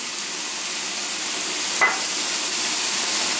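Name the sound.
frying curry paste with onions in a pan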